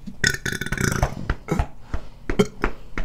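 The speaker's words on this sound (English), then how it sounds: "I'm about to burp real big" Long, deep, gurgling burps from a person during a challenge to drink two liters of soda, coming in several bursts of varying length, loud and close, without speech.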